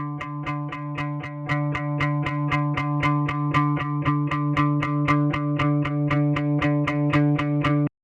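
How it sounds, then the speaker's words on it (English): Electric guitar through a distortion pedal effect, recorded in Ableton Live, plays a sustained, buzzing chord rhythm in rapid even repeated strums, loud and saturated, with no voices. "On this guitar I'm going to integrate the pedal effect to add a little more distortion"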